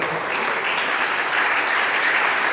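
Church congregation applauding steadily, a dense continuous clapping wash that holds at even loudness throughout, with no talk over it.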